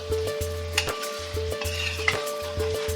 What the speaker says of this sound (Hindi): हमें कम से कम इसे 10 से 15 मिनट तक के लिए इस तरह से भूनना है, तभी ये ऐसे ड्राई चिकन होगा